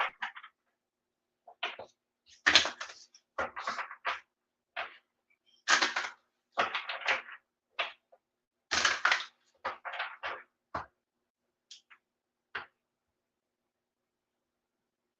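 Tarot cards are shuffled in quick, crisp bursts of riffling and snapping, close and clear, arriving in irregular clusters separated by silent pauses, with no talking over them.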